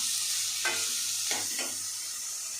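Onions frying in a pan give a steady, close sizzle, broken by a few short scraping stirs. No one speaks.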